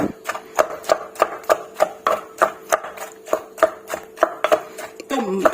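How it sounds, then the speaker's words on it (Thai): Boiled jackfruit is pounded in a mortar for Isan-style jackfruit soup, a close run of sharp, regular thuds about three per second that continue evenly throughout, ending with a brief scrape and no speech. "ขออนุญาตตำไปเรื่อยๆจนเบิด"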